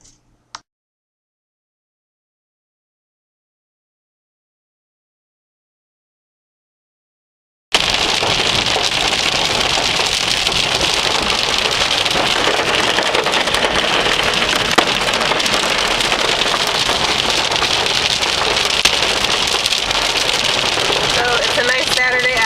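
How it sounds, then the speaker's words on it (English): An afternoon hailstorm on a sunny spring day, a loud, dense, steady clatter of ice pellets striking surfaces that starts abruptly after several seconds of silence and continues unbroken. "Afternoon hailstorm."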